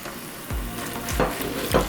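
Garlic fries in a pan over medium heat until browning, giving a close, lively sizzle. A few low thumps and scraping strokes from stirring come at roughly even intervals.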